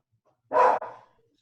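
A dog barks during an online planning team meeting: one loud, close bark with a short trailing second yelp, then quiet.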